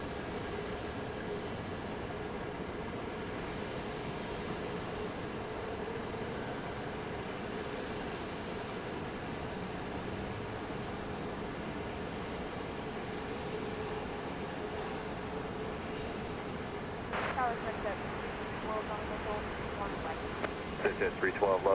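A Boeing 737-700 airliner, flight 1346 from Phoenix, at Dallas Love Field at night gives off a steady distant jet roar that runs throughout beneath ongoing talk, with some sharper brief noises near the end.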